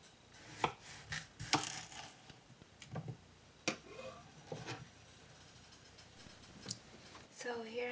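A knife slices a zucchini in half on a cutting board in a home kitchen, giving a few sharp, close chopping knocks at irregular intervals, quiet overall, with a voice faintly heard.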